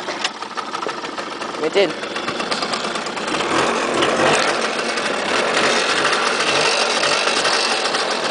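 A 2002 Bombardier DS 90 ATV engine catches and settles into a steady, buzzy idle that grows slightly louder and fills the clip, with one brief spoken remark near the start.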